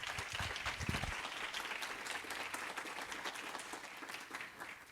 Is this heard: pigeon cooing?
no